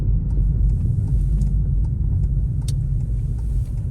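Interior rumble of a car driving on a winter road in Vantaa, Finland, a steady low engine and tyre drone with faint road noise, continuous and fairly loud, no voices.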